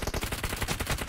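Rapid automatic gunfire in the video game PUBG Mobile, a quick string of about a dozen evenly spaced loud shots over roughly a second.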